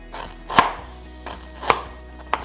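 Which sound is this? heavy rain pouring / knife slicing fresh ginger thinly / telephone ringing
knife slicing fresh ginger thinly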